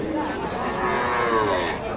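Young calves and bulls moo loudly and keep overlapping at a busy rural cattle market, over a steady hum of crowd chatter.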